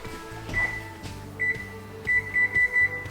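Oven control panel beeping while the preheat temperature is set, short electronic tones at close range, one single beep, then another, then a quick run of four, over a low background hum.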